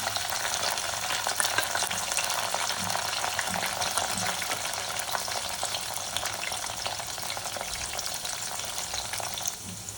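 Black masala paste fries and sizzles in a hot pan with chicken while a spoon stirs it, giving a steady, dense crackle with occasional scraping strokes close by and no talk.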